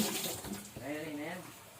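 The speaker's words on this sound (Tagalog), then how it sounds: "Kusog pa lang tubig diha." Water runs from a tap in a steady stream behind a person's voice, the flow staying continuous and moderately close throughout.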